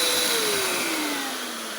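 A small special blower runs on a furnace, giving a steady whooshing roar with a whine that slowly drops in pitch as it winds down over under two seconds.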